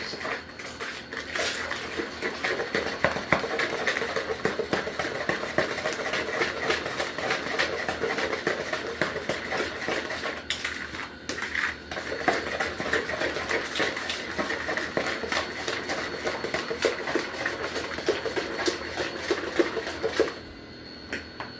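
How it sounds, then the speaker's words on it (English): A spatula scrapes around the sides of a mixing bowl of snickerdoodle cookie batter, a dense continuous rasping and clattering close by that runs for about twenty seconds before stopping, with no voices. "Scraping the sides of the bowl so we don't lose our mixture ingredients"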